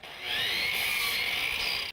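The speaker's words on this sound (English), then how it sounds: "Measuring, hammering, and sawing." Power saw cutting wood on a house-building site, a sustained high whine that starts after a quarter second, holds steady and loud for over a second, then cuts off abruptly.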